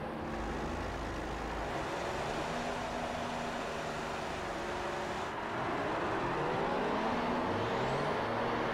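An F1 car from the F1 2015 video game runs laps in practice at Bahrain on soft tyres, its engine a steady continuous drone with shifting harmonic whine throughout, rising slightly toward the end.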